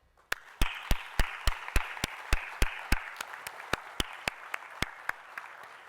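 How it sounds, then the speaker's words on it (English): Applause at a 2020 secondary school graduation ceremony for the Year 11 and Year 13 classes, heard as sharp, evenly paced individual claps ringing in a reverberant hall and gradually fading. "join me in a round of applause for our Year 11 and our Year 13 graduating class of 2020."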